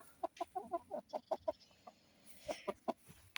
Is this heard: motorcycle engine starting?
no